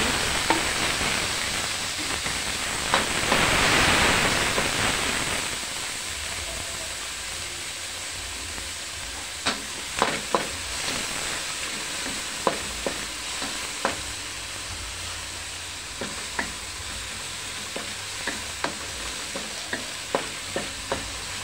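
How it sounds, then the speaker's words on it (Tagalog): Onion and tomato sauté in a pan for a chayote and shrimp dish, giving a loud, continuous sizzle. A utensil clacks against the pan in short, regular stirring strokes, with no voices. "gisa tayo ng sunod natin ng sibuyas"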